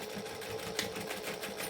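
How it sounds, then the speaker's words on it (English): A sewing machine stitches across two fabric layers of a laptop sleeve, a fast, even mechanical whirr running continuously and close up with no talking. "And then tuck the two layers in and stitch across."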